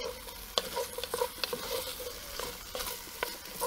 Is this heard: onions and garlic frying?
yes